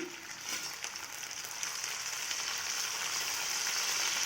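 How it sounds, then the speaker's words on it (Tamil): Crushed pea eggplants (sundakkai, turkey berries) frying lightly in oil in a pan for a village-style chutney, giving a steady, close hiss of sizzling that swells slightly and holds without break, with no talking. "சுண்டைக்காவை நெசுக்கி வச்சுக்கிறது வந்து நம்ம லைட்டாக எண்ணெயில் வதக்கி எடுத்துக்கலாம்"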